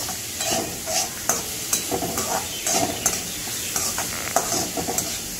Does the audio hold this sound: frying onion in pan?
yes